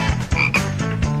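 Cartoon frog croaking in a classroom scene, a run of loud, close, rhythmic croaks repeating several times in just over a second, with no talk over them.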